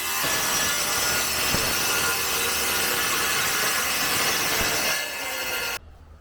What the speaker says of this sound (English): I got my handsaw over here. I'm going to make my first cut this way.